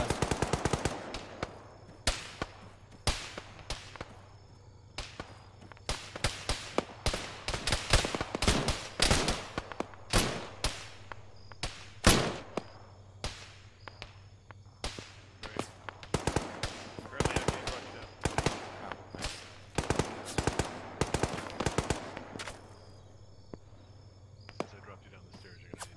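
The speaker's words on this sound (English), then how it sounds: "there's some kind of MMG or HMG audio northwest" Medium or heavy machine gun fire in a military shooter game, bursts of sharp shots rattling in quick groups with short gaps, fairly distant, over faint insect-like background noise and occasional voices.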